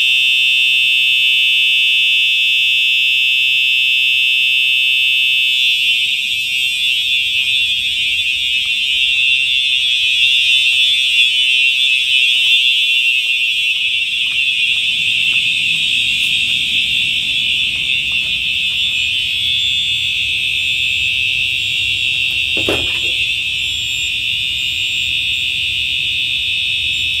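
A home fire alarm system sounds during a full test, a very loud, piercing continuous electronic tone holding steady throughout, with faint background shuffling and a brief sharp knock partway through.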